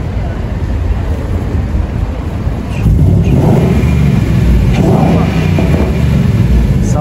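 A Ford Mustang Bullitt pulls away from a traffic light on a city street: a low idle rumble swells into a louder, deeper engine surge about three seconds in that holds to the end.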